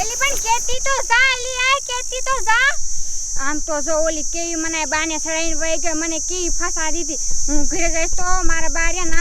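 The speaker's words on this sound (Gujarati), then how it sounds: "આમ જો કેવા તમરા બોલે" Crickets keep up a steady high chirring throughout, running faintly under a woman's loud, continuous talk.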